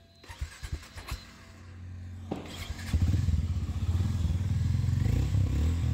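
A Harley-Davidson X440 motorcycle goes from a few clattering mechanical clicks and thumps to a brief engine start, then settles into a loud, throbbing low idle with a rapid, even pulse.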